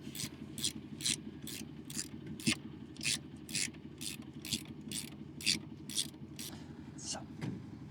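Ratchet wrench tightening a bolt on a heel and toe shifter of a modified Royal Enfield Classic 350 motorcycle, a steady run of quick, evenly spaced clicking strokes, fairly quiet and close.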